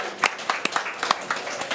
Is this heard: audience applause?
yes